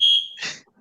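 A household fire alarm gives one loud, sustained electronic beep, then a short burst of clattering noise as it stops, with no talking.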